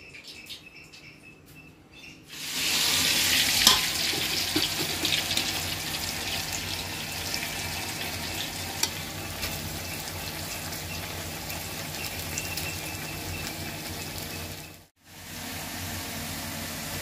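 Food frying in boiling oil starts abruptly after a quiet moment, a dense crackling bubble that holds steady and close, briefly cutting out near the end before resuming.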